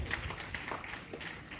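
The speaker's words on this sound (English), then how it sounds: "A round of applause for our guest lecturer." Applause for a guest lecturer at an annual award ceremony, a steady dense patter of clapping from an audience filling the whole moment without pause.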